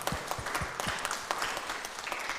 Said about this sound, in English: Maybe we'll give a round of applause to all of them.